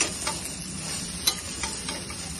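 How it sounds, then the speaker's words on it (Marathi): Onions browning without oil in Healux cookware, heard as a close, dry sizzle with light stirring scrapes and one sharp tap of the utensil against the pan midway. "कांदा छान असं ब्राऊन होतो।"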